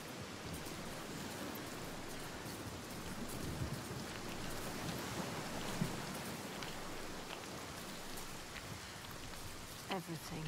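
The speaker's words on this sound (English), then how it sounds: "The rain never stops." Steady rain pours through a stormy scene in the video game Senua's Saga: Hellblade II, a dense, continuous hiss of falling water with occasional nearer drops and faint low rumbles, heard alone without voices.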